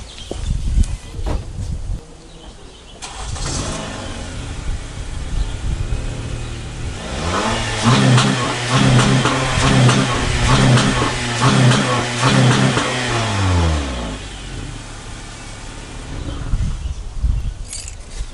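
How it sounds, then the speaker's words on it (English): A car engine with its stock air intake, before a K&N aftermarket intake is fitted, idles, then revs repeatedly in rising and falling bursts before settling back, heard close up with some wind noise. "this is how my car sounds before the air intake."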